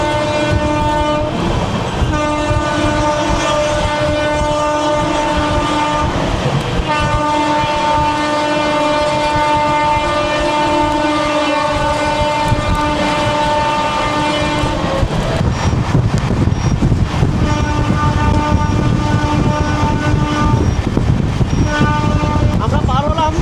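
Amrit Bharat Express train running at speed, about 128 km/h, on the Sealdah to Varanasi route, with a loud, steady roar of wheels on rails and clickety-clack throughout, horn tones sounding repeatedly, and voices in the background.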